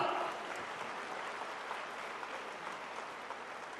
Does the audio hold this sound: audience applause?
yes